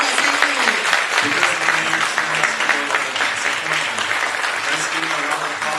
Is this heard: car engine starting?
no